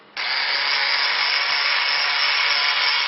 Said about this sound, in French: je prends une perceuse, je prends une petite mèche et je vais venir percer